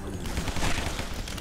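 Rapid automatic gunfire from a weapon in the zombie shooter video game Guns, Gore and Cannoli, a dense, continuous burst of shots, loud and close, with no talking.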